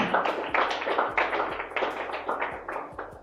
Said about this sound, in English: Can I hear somebody clap hands?